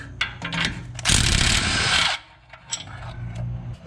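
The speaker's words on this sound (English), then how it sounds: "Remove the sway bar link." A power tool, likely an impact gun, runs in one loud, steady burst of about a second, removing the sway bar link from a BMW front strut during a DIY suspension job, with quieter clanks of work before and after.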